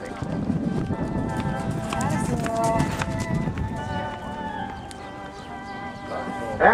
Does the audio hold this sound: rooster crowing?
no